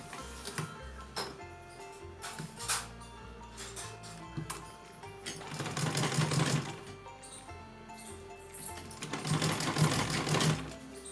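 A sewing machine stitches a small Laddu Gopal dress, whirring in a couple of short bursts amid light ticks and clicks of handling nearby. The sound is quiet and close.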